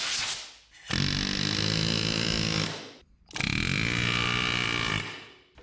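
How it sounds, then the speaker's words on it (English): Two long bursts from a pneumatic air hammer (air chisel) driving out suspension bushings on a 1984 Chevrolet S-10, a loud, harsh rattling roar each lasting about two seconds, separated by a short pause. "We're just gonna use the air hammer here"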